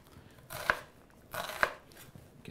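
Two sharp knife chops on a cutting board while a red onion is diced, spaced about a second apart, close and clear against a quiet background.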